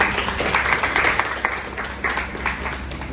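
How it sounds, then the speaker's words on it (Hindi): Audience applause at a college Ozone Day prize ceremony held by an environmental science department, a steady, dense patter of many hands clapping throughout, fairly close and moderately loud. "ताली तो बजा लीजिए"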